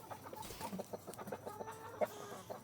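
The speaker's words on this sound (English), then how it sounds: "he is a Gold Star Comet. A Gold Star rooster." A Gold Star Comet rooster clucks in a quick run of soft, close, repeated clucks, alone with no talking.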